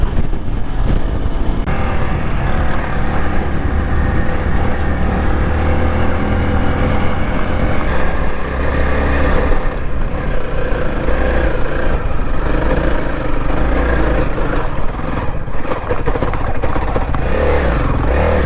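A motorcycle engine drones loudly and steadily throughout, with rumbling, clattering texture and slight shifts in revs as it rides over rough ground.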